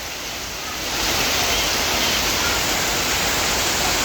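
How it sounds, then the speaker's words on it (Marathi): Heavy rain pours down in Singapore at Palawan Greens, a dense steady hiss that swells louder after the first second and stays constant. "आणि आता खूप जोरात पाऊस आलेला आहे"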